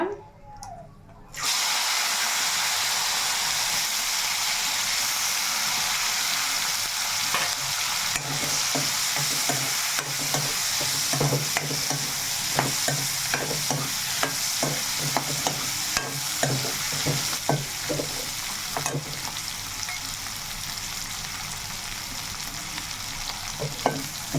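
Dried anchovies fry in oil in a pan, giving a steady, loud sizzle that starts abruptly and continues throughout, with repeated close stirring scrapes and clicks and no talking.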